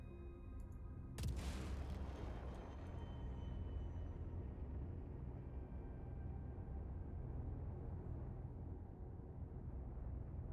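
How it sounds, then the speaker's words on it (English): A torpedo is dumbfired from a ship in the video game Star Citizen: one sudden loud boom, then a heavy, steady roaring rumble that carries on for several seconds, with no voices. "we'll just dumbfire probably one torpedo and see what happens"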